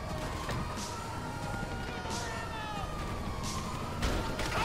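Police sirens wailing in the video game GTA 5, a continuous rising and falling tone held steady throughout amid busy game noise, with a sharper burst near the end.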